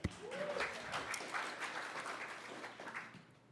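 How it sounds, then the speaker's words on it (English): A small audience at a meetup claps quietly and briefly, scattered hand claps sounding faint and distant in a room. "Yes, he is clapping."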